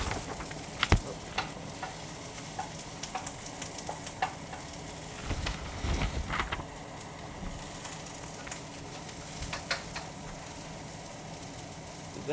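Omurice cooking in a pan over medium heat gives a soft, steady sizzle and fry with scattered pops and light scraping clicks. It is fairly quiet and there is no talking.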